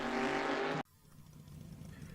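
Race car in the Assetto Corsa video game at Goodwood, its engine loud and close for under a second before cutting off abruptly, leaving a faint low idle-like rumble.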